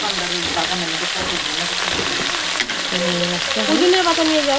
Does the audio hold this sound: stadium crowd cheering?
no